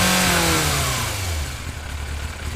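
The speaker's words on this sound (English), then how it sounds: "The other thing to listen for is when I do rev it up," A used motorcycle with a suspected carburetor problem revs up loudly and alone, the engine note sliding down slowly as it falls back toward a sluggish idle.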